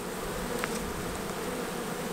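Honey bees of a swarm, young workers ready to draw foundation, buzz in a steady continuous hum with no voices, a couple of brief closer passes standing out against the drone.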